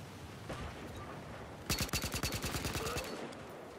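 Gunfire in the video game Battlefield Hardline: a brief, fast rattling burst of automatic shots, about a dozen rapid cracks, against steady game ambience with a couple of fainter single shots before it.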